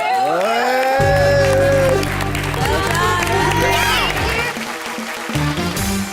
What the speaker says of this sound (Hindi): मैं कहूँगा अनीता के लिए एक दफा तालियां सब मिलके बजाएं